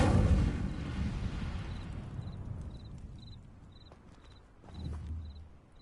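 A fire spell cast in the Hogwarts Legacy game: a loud rushing, crackling burst at the start fades over a few seconds, then swells again briefly near the end, with small chiming interface tones in between.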